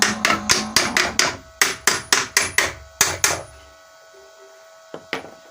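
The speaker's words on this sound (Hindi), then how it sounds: "अब हम इसको मुकम्मल ठोक देते हैं और इसके पेच टाइट कर देते हैं।" Sharp metal hammer blows strike as a bearing is driven into a water pump motor, a rapid run of about a dozen loud close knocks, then a pause and two more taps.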